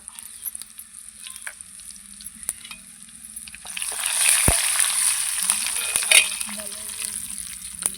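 Four dried chillies frying in a hot pan over a strong flame, a soft sizzle that swells into louder, steady crackling partway through, with a few sharp clinks and scrapes.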